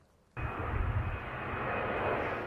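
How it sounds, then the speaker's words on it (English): Plane taking off from Stansted Airport, a sudden loud, steady broadband engine roar with deep rumble that begins abruptly and holds at full strength. "As another plane takes off from Stansted, it's saving fuel and flying lower for longer."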